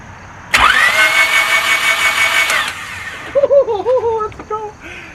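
Honda Civic engine cranking after a head gasket repair: a loud, close starter whir with a steady rhythm runs for about two seconds and stops abruptly, followed by excited voices.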